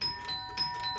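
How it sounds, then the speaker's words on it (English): A household doorbell in a house under renovation rings with clear, faint electronic tones, several short pitched chimes sounding in sequence over a quiet room. "seeing if the doorbell works"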